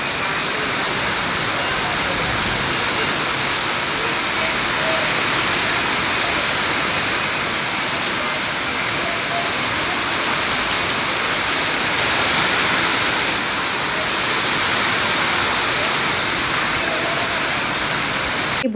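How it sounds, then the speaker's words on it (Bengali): Heavy rain pours steadily onto a shaded rooftop, a dense, continuous hiss with no letup, loud and close throughout. "বৃষ্টির জল তাও ছাদে পড়ছে, এত জোরে বৃষ্টি হচ্ছে"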